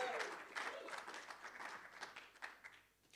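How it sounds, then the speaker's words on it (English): A theatre audience breaks into applause, a spread of many hands clapping at moderate distance that swells and then thins out toward the end. "Round of applause."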